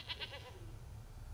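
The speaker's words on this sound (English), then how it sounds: "It is a goat." A goat in the film The Wolverine (2013) gives a short, quick bleat near the start, then only a low rumble is left under it.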